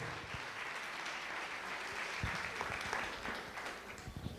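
Steady applause from a crowd, a dense patter of many hands clapping at an even loudness with a few sharper claps standing out.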